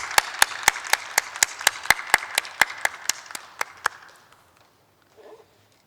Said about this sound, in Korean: 우리 샬롬과 함께 하나님께 영광의 박수 올려드리겠습니다.